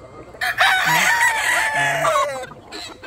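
A gamecock rooster at a game farm crows loudly and close by in one long drawn-out call, with a couple of short lower clucks mixed in.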